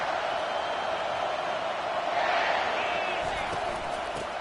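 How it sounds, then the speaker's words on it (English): A college football stadium crowd roars in a dense, steady wash of noise that fills the space without a break, loud and continuous throughout with no distinct voices standing out. "This crowd bringing an ear-splitting welcome to their visitors."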